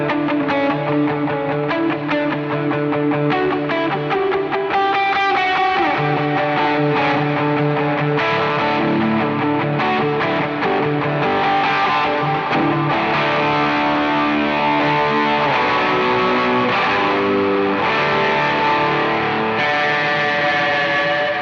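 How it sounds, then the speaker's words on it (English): Electric guitar played through a Tube Screamer overdrive pedal stacked for lead tones on a small worship pedalboard, a sustained distorted melodic line with ringing notes and effects, loud and alone without talk. "I stack on the tube screamer for more lead tones, and I have this foot switch doing that."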